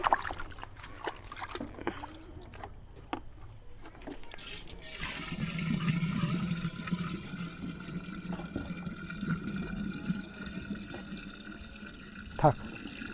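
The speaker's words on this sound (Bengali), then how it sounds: "এবার আমরা এখানে যত পরিমাণে আপনার এখানে ভাত দিয়েছি আমরা তত পরিমাণে আপনার এখানে জল দেব।" Water is poured into a pot of cooked rice, a steady watery rush and gurgle that swells midway and continues to the end, following a stretch of quieter handling noises and faint clicks.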